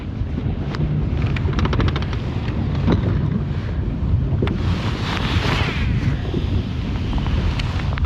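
Wind gusting steadily across Lake Guntersville, buffeting the microphone, with waves lapping in the background and no voices.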